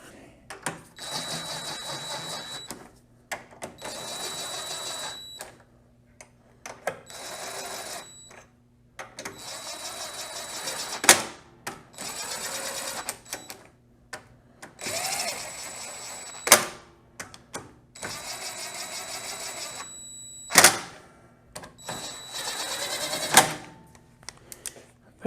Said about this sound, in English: we're done tightening with the power tool